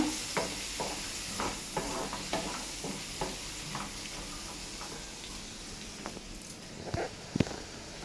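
Raw prawn and gongura curry stirred in a pan, a continuous sizzle under a regular series of spoon scrapes and taps, ending in a couple of sharper knocks.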